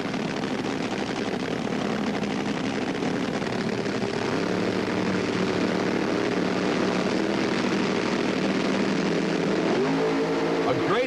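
Roar of two drag racing cars of about 2,000 horsepower launching side by side at the 1977 Gatornationals, one of them the Candies and Hughes car. A dense, loud engine blast fills the whole clip under announcer commentary, with rising engine tones near the end.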